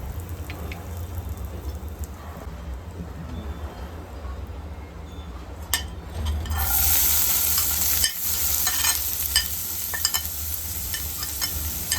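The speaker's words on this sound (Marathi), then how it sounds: "तेल नीट गरम झाल्यानंतर मी त्यात हिंग घातला आहे।" Asafoetida hits hot oil in a pan and a loud, close sizzle bursts up suddenly, then keeps crackling and spitting steadily after a quieter start.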